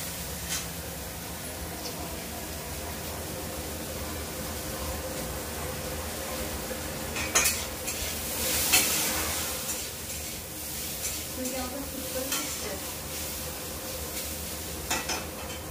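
Egg toast frying in a pan, a steady hiss of oil with a few scrapes and taps of a spatula, heard close at moderate volume over a low background hum.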